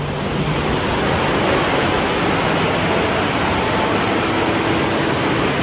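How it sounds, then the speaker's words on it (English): Sudden heavy rain pouring down in Bangkok, a loud, steady roar of dense rainfall that fills the whole clip without let-up. "All of a sudden it's raining."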